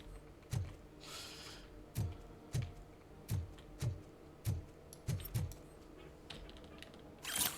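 Keys being picked up in the Robocop Rogue City video game, a series of about nine short metallic jangles at irregular intervals, close and fairly quiet, with no talking.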